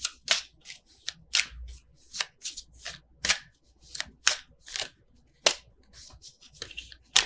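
Oracle cards being shuffled for a Sagittarius love tarot reading, a series of crisp riffling swishes at an uneven rhythm, each a short burst close to the microphone over a quiet background.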